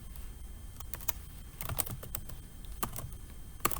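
Typing on a computer keyboard, a close, quiet patter of separate key clicks at an uneven pace, with no voices.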